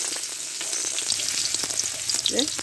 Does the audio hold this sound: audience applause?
no